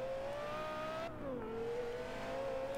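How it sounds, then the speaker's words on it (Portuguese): Porsche Carrera GT in the Forza Horizon 2 racing game, its engine droning loud and steady, then dipping in pitch as if shifting gear before climbing again, with no talking. "eu acelero um pouco só"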